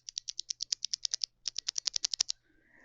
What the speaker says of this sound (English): You see we got some blue switches that are nice and clicky.